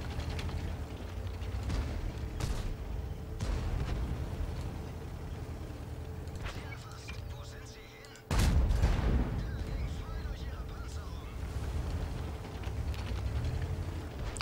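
Incoming shells and gunfire in a tank video game set around a PzKpfw VII, with repeated sharp blasts and a loud close impact partway through over a steady rumbling engine bed, a voice speaking briefly.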